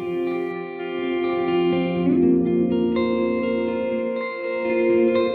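Sustained guitar chords swell in a wash of reverb from a reverb pedal, the notes ringing and blending into a long shimmering tail with no talking.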